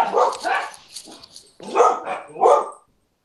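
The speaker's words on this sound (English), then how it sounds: "is that like a dog in the background?" A dog barks in the background in bursts: a quick double bark, a softer yip, then two stronger barks, each short and sharp, with a few seconds of quiet after.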